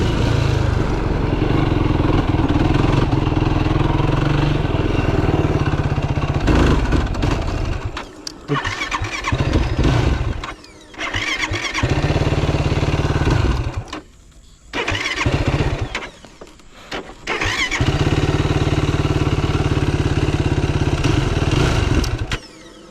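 A Yamaha YFZ450R quad's engine runs loud and close, holding a rough, throbbing idle that cuts out briefly several times before catching again.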